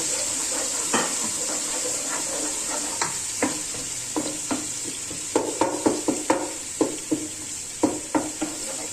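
Garlic and ginger frying in a pan for curry pakora, a bright steady sizzle broken by a series of repeated stirring scrapes and taps, close and clear.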